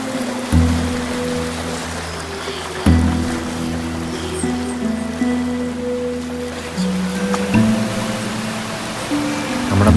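High water flows through a forest stream on the jungle trail to Sabarimala, a steady broadband rush that persists throughout beneath droning, sustained tonal sounds.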